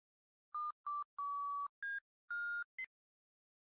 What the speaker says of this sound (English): the door now randomly opening on its own, accompanied by a collection of beeping sounds